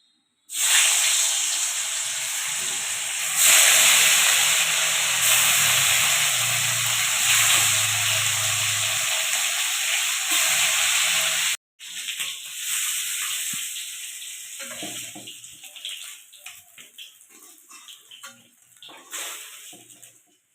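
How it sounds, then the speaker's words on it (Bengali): Shankar fish sizzle in mustard oil in a wok, a loud continuous hiss that breaks off briefly midway and then resumes in a rougher, crackling form. "কড়াইতে সর্ষের তেল দিয়ে দিলাম এখন মাছগুলোকে ভেজে নেবো"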